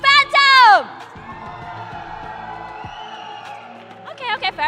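An esports arena crowd at a Valorant grand final cheers for Team Phantom in a sustained, moderately loud roar. A host's shout comes just before the cheering, and voices resume as it fades.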